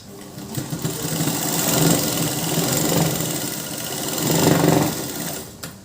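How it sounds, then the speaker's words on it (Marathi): A sewing machine stitches blouse fabric with a close, steady mechanical whir that swells in two longer bursts of running, then slows and stops. "परत डबल टीप मारून घेऊया"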